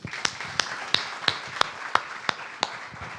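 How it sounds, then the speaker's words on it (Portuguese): A church congregation applauding, heard as a series of sharp, evenly spaced claps, roughly three per second, over a low background murmur. "Pode aplaudir."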